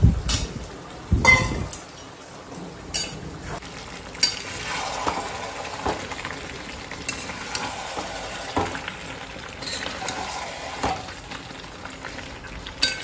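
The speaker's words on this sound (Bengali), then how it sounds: "আলুটা মাংস কষানো হয়ে গেছে, আলুটা দিয়ে দিলাম।" Potatoes go into a pan of frying meat: a few loud clattering drops and clinks at the start, then steady close sizzling with intermittent stirring and scraping.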